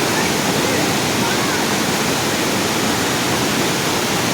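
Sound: Kalarandi waterfall

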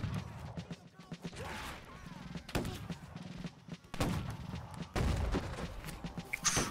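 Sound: musket volley fire in video game Battle Cry of Freedom

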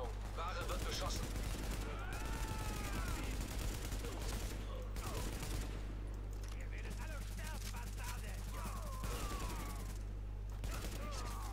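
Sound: gunfire in the video game The Division

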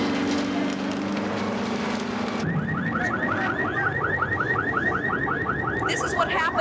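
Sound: burglar alarm ringing after the 1989 San Francisco earthquake

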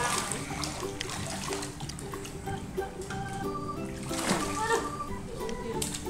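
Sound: water poured into INTEX portable kids' swimming pool

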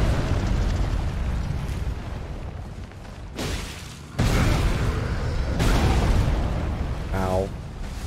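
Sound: big explosion in Elden Ring video game

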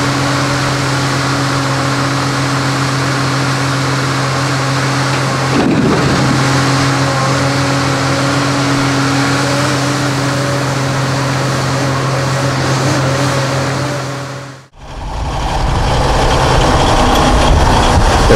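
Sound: loaded logging truck driving away

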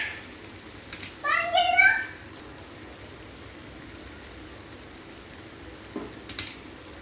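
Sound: mixing salt, turmeric and chili powder in a pan

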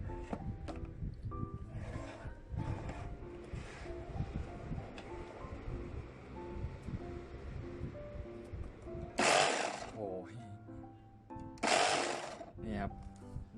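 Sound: electric food grinder running

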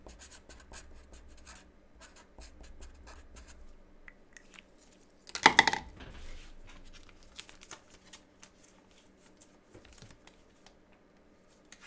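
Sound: writing something down by hand

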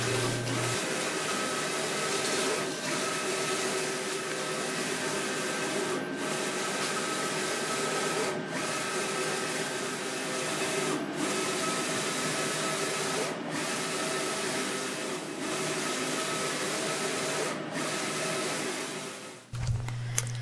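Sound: printer cutter printing and cutting wall graphics

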